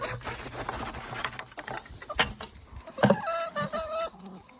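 Backyard garden chickens cluck in short bursts, with a louder squawk midway and a few higher calls toward the end, all over a busy outdoor background.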